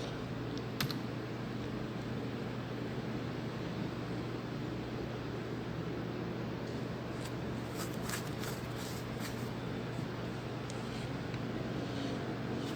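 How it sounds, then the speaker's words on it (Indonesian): Keys tapped on a computer keyboard during network router setup, a few sparse faint clicks over a steady hum and hiss, no voices. "Setelah itu kita tekan enter."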